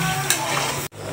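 Coconut milk stirred in a hot pan, a short burst of close bubbling sizzle with a brief scrape of the spoon, cutting off abruptly near the end.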